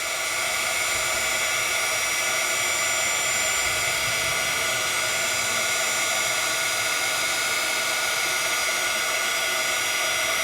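A craft heat tool blows hot air steadily to heat set ink on a stencilled project, a loud, continuous whooshing roar that holds level for the whole stretch with no talking.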